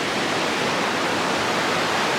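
Glacial snowmelt stream rushing beneath a footbridge on a mountain trail: a loud, dense, continuous roar of fast water, close by and steady throughout, with no voices.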